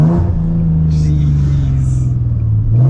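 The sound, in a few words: Nissan 370Z Nismo engine revving on aggressive downshift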